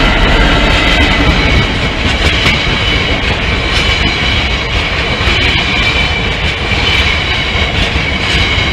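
Class 66 freight locomotive 66009 passing a level crossing at Lincoln Central, a loud, steady roar of wagons with continuous rail rumble and faint clickety-clack throughout, close by and without talk.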